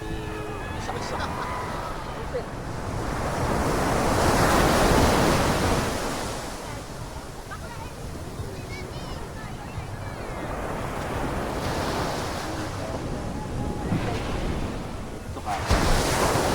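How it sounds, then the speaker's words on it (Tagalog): Ocean waves breaking and washing up on a beachfront at Dinggalan, Aurora, with swells rising and falling, wind buffeting the microphone and people's voices faintly mixed in. "Kinukontrol lang ang alon."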